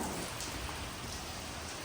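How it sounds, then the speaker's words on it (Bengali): Water falls in a steady rain-like patter, a dense hiss splashing on a surface nearby, continuous and even throughout. "এখন দেখি যে উপর থেকে পানি ফেলছে"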